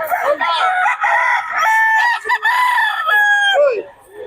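A black hen calls loudly and close up, a sustained run of clucking and squawking tones at a Filipino poultry sale, with no clear speech over it.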